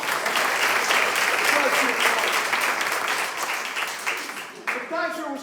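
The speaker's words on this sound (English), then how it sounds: "Give her a round of applause" An audience applauds at a talk on bears, loud steady clapping that tapers off, with a voice starting to speak over it near the end.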